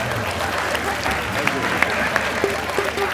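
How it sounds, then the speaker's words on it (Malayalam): Studio audience applause at a comedy show, a steady broadband wash of many hands with a few sharper individual claps standing out. "നിങ്ങൾ എന്തിനാ കൈയടിച്ച്?"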